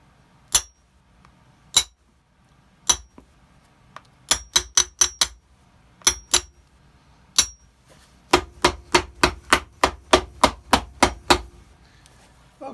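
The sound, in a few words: hammering on a shoe sole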